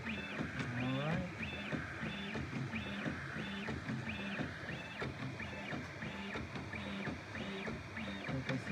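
A Prusa Bear 3D printer with dual Y steppers prints at high speed around 500 mm/s, its motors singing in rapid repeating pitched sweeps and chirps, close and fairly quiet.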